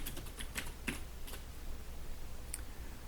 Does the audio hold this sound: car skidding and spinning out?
no